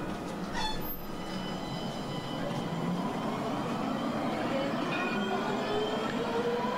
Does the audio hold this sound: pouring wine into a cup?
no